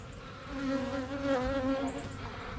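A bee buzzes close by with a clear droning pitch that wavers as it moves, over a softer background hum of other bees.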